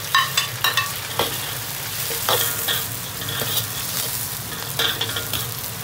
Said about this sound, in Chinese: 姜蒜、炒香锅下洋葱、青红尖椒。